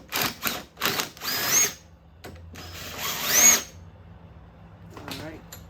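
Power tool running in several short bursts to remove a bolt from a go-kart fender mount, fairly close, with gaps between bursts and a faint voice near the end.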